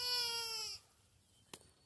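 A small mother sheep gives one loud, close bleat with a wavering tone, then it stops abruptly, leaving quiet barn ambience and a couple of brief knocks.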